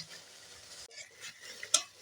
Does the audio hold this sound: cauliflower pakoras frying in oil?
yes